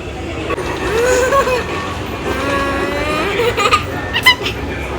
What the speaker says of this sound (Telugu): ఇదిగోండి వచ్చేసింది ట్రైన్